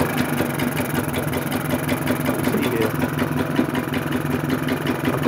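A Vire 12 hp marine engine on a boat starts and keeps running steadily, its rapid mechanical chug loud and continuous throughout.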